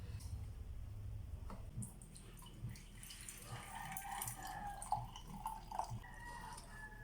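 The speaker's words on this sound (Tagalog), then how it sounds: "Ayan na, salain na natin" Boiled onion, garlic and calamansi herbal drink is strained, giving faint trickles and drips of liquid falling into a container in a quiet kitchen, with some soft handling noises.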